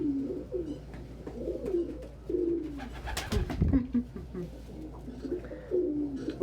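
Pet doves coo back and forth in soft, repeated low phrases, close and steady, with a brief burst of rustling or flapping in the middle.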